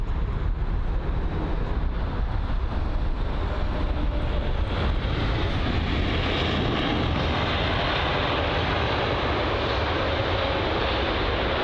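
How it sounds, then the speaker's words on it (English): An Aeromexico Boeing 787-9 Dreamliner jet lands after a flight from Mexico City, its engines a loud, steady broadband roar that holds nearby from start to finish with no voices. "The Aero Mexico 787-9 Dreamliner arrived from Mexico City."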